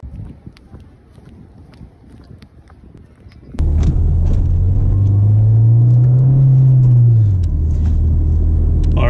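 Ford Fiesta ST turbo car pulling away on a road, a loud cabin rumble that swells as the revs rise and fall, with wind noise over the microphone after a quieter start.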